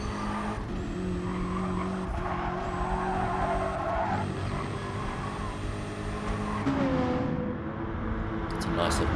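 Race cars, one of them a BMW, corner hard with roaring engines and brief tire squeal, the sound staying close and steady throughout under a commentator's voice.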